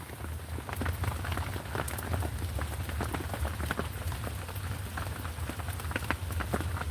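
Heavy rain pours outside in a dense, steady hiss, with scattered drops spattering close by and no voices.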